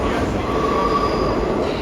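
New York City subway train rolling along the rails, a loud, steady roar of wheels and car rumble with a faint high squeal, heard from inside the train.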